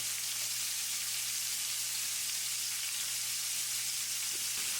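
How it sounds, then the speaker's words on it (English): Shrimp fry steadily in a hot pan in a home kitchen, giving a continuous close, even sizzle with no voices over it. "while them shrimps are cooking"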